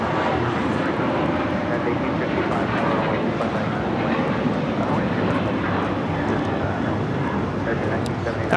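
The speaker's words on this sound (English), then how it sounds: "That was American Airlines 1979 going all the way to Chicago on the 737-800." An American Airlines Boeing 737-800 departing Los Angeles LAX for Chicago gives a steady, loud jet roar that holds evenly throughout, with a voice talking faintly underneath.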